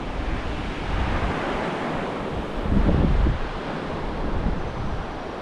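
Surf rolling onto Playa Coyote beach in Costa Rica, a broad steady wash of breaking waves with one fuller surge midway, mixed with wind buffeting the microphone and no voices.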